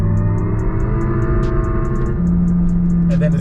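Simulated engine rev from a Lexus RZ electric car, a steady synthetic drone with layered tones that shifts pitch partway through, loud and close with faint ticking above.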